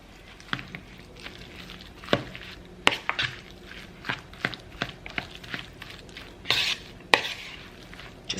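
Buffalo chicken filling for egg rolls, coated in hot wing sauce, stirred in a pan: a run of scattered scrapes and soft knocks of a utensil against the pan, close and fairly quiet, with no talking.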